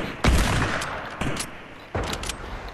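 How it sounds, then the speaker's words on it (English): Flare gun firing in the Fortnite video game: three loud, sharp shots spaced about a second apart, each followed by a lingering hiss and rumble. "He's shooting flares."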